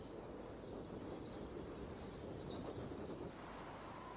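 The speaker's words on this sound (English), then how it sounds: "Red-winged starlings mob her as she starts off." Red-winged starlings calling while mobbing, a flurry of high, thin chirps over a steady background hiss, faint and somewhat distant.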